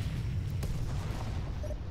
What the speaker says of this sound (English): Those bombs blew me up.